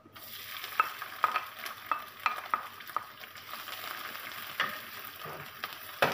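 Pickle sautéing in a pan for sitaw fried rice, a soft steady sizzle close by with a series of sharp spatula taps and scrapes against the pan, and no talking.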